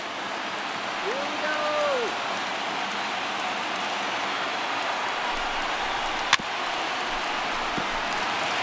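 Crowd of about 26,000 fans in a Miami ballpark rising to cheer in the MLB The Show 19 baseball video game, Mets at Marlins: a steady, wide roar with a single sharp click partway through.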